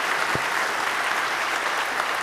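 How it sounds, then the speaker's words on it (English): An audience applauds after a talk, with a steady, dense round of clapping from a crowd at moderate loudness that holds evenly throughout, including a brief low thump near the start. "give a huge round of applause for this awesome talk,"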